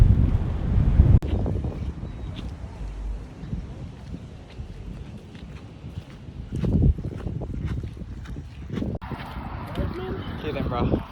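Hurricane Douglas winds buffet the microphone in heavy rain, a loud, gusty roar with rumbling surges that swell midway, while voices are briefly heard.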